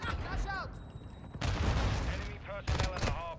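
Automatic gunfire in a Call of Duty game: loud, sustained bursts of rapid shots with short pauses between them, mixed with in-game voices and chirping effects.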